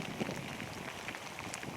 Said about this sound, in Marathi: लय पाऊस आलाय मैदाला आता